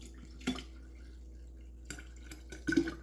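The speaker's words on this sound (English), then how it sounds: "Now we're going to add in our 4 cups of water." Water from bottles splashing into a granola mixture in a bowl, heard as three short, separate splashy bursts with quiet gaps between them, the last one fullest, and no one speaking.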